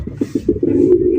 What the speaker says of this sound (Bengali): কত সুন্দর ওয়েদারে খোলামেলা অবস্থায় কবুতর ডাকতেছে